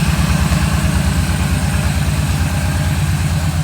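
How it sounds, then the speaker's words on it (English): Engine of a 2012 Yamaha Stryker motorcycle idling steadily after start-up, a loud, close, even low throb with no pauses. "Let's get this bike going."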